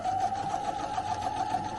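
A sewing machine stitches fabric in a steady, close mechanical whir with a fast regular needle rhythm for the whole stretch, with no talk over it.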